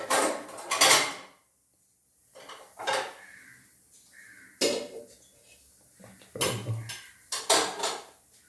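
A metal pan used for cooking chapati clatters and clanks in a home kitchen, with several separate knocks and scrapes spread over a few seconds and short quiet gaps between them.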